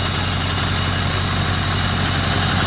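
A 1979 Yamaha XS1100 motorcycle engine holds a steady, raised idle, a loud continuous low throbbing drone with even pulses, close by and alone without talk.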